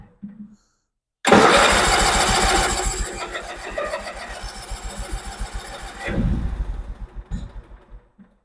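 A 1996 Craftsman GT6000 lawn tractor engine cranks with a loud starter whir, catches and runs roughly for several seconds, then sputters and falls into uneven chugging, heard close up.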